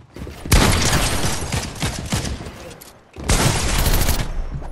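Rapid bursts of video game gunfire rattle loud and close, one long barrage breaking off briefly before a second sustained volley resumes.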